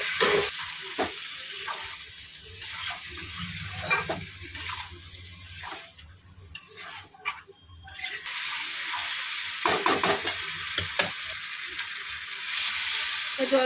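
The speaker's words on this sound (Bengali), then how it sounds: "এবার আমি চিংড়ি মাছগুলো দিয়ে কষিয়ে নেবো সব একসাথে।" Prawns fry together with pointed gourd in a hot pan, giving a steady hiss and sizzle broken by intermittent scrapes and clinks of stirring, with the frying briefly quieting midway before resuming.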